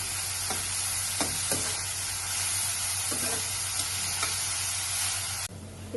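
Oil sizzles steadily in a pan seasoned with salt and turmeric for an egg curry, with a constant close hiss and a few soft stirring taps before it cuts off near the end.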